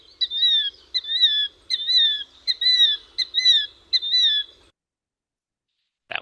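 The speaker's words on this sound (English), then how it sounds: "Killdeer says its name." A killdeer calls repeatedly, about eight clear, shrill two-part notes in an even rhythm, fairly close and alone against silence, followed by a brief click at the end.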